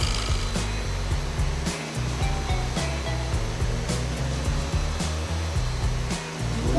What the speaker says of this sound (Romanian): o să dau cu aspiratorul pe pat.